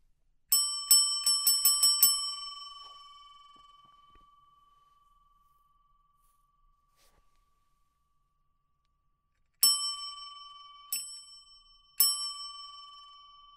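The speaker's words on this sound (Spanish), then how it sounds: "oímos sonar el timbre de la puerta de calle" Street door bell ringing as a sound effect, a rapid cluster of bright metallic rings at the start, then a long fading ring, silence, and three more separate rings near the end.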